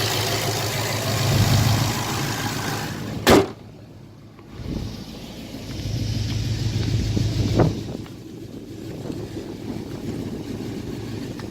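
A tuned car's engine runs and idles nearby, a steady mid-low hum that rises in a couple of short revs, broken by a sharp click and a brief dip before settling back to idle.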